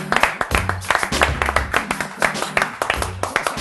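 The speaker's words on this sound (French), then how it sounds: "je vais vous demander des applaudissements pour recevoir celle dont je vous parlais tout à l'heure" Audience applause with rhythmic clapping in a dense, steady pattern, alongside a deep repeating tone underneath.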